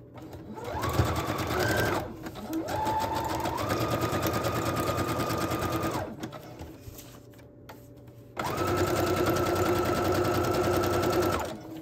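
A sewing machine stitches fabric for a patchwork journal cover in long steady runs with brief pauses between them, loud and close, its whirring motor rising and settling in pitch with each run.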